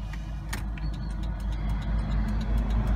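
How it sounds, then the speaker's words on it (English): A Volvo 940 car engine runs steadily with a low rumbling hum and faint ticking, holding a constant idle throughout, after a fuel filter replacement. "Now we're just going to start the car and let it run until it dies."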